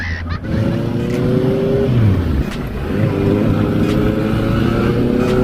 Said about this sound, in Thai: ฟังเสียงท่อเพลินๆ นะครับ